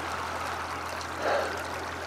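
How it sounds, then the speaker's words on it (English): A small mountain stream carrying glacial silt runoff ripples and bubbles in a soft, continuous babble, faint and steady with no voices. "she's not a roaring stream, but there's enough ripples and bubbles"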